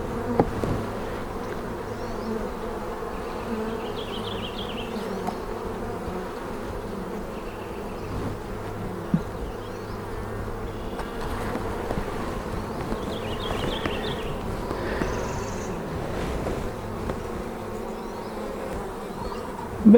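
Honey bees buzzing steadily at a spring hive during inspection, a dense continuous hum with individual bees droning close by, no talking.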